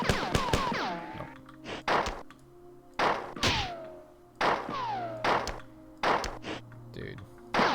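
Several hollow, thudding launches from the grenade launcher in the 1994 first-person shooter Marathon, fired one at a time in uneven bursts over about eight seconds, loud and close.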